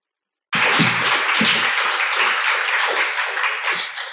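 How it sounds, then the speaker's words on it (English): After a brief silence, a symposium audience breaks into steady applause, many hands clapping together in a dense, continuous patter. "I hope you heard the audience clapping."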